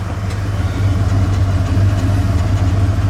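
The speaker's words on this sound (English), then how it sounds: "We got a shield or something that's clanking." An old bullnose-era Ford truck idles with a steady low rumble while a loose shield clanks faintly, with light intermittent ticks over the engine drone and no talking.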